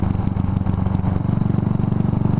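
A Buell Blast motorcycle, its single-cylinder Sportster-derived engine, chugging steadily with a loud, close, even low thump and mechanical clatter, no voices.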